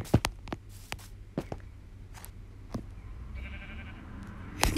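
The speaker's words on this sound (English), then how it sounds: "Sheep." Short Minecraft sheep bleats and clicks pop up sporadically amid quiet background tones, with a brief sustained synthetic tone near the end.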